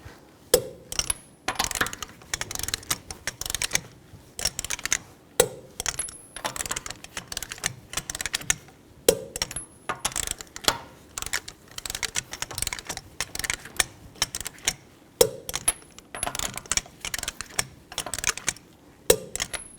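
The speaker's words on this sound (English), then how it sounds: "Now torque the lug nuts down to 80 foot-pounds in a cross pattern or star pattern to tighten the wheel down evenly" Lug nuts being torqued down on the rear wheel of a 2004-2008 Nissan Maxima, heard as a steady run of sharp metallic clicks and clacks in bursts, close and fairly loud, with no talking.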